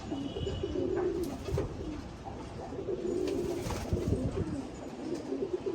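Female pigeons being readied for a flying tournament coo in low, repeated throaty calls, close by over a busy background of shuffling and small noises, with no speech.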